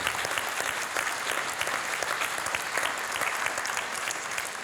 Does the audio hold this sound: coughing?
no